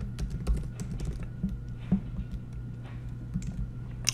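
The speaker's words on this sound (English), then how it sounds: "And in here, I'll type in Joy Division." Rapid keystrokes on a computer keyboard clatter in an uneven, continuous stream of close, crisp clicks over a faint steady hum, with no talking.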